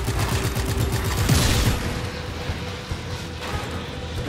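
Gunfire rattles in Just Cause 3 during a sniper fight, a loud burst of shots and a sharp blast near the start, then fading rumble and scattered cracks, no talking.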